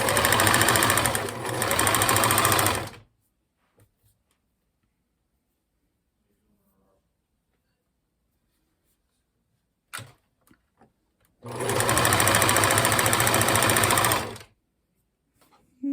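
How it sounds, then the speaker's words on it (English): Sewing machine stitching a rag rug, two loud, fast, steady runs of needle chatter separated by a long silent pause with a few small clicks. "I'm going to sew this pretty fast in time lapse so you can watch what's going on"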